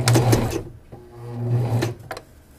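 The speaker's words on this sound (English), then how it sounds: "I'm going to start sewing 3 forward, 3 back" A sewing machine stitches a garment's crotch seam in two short motor bursts, a brief forward run then a reverse run after a pause, followed by a couple of light mechanical clicks, close and clear.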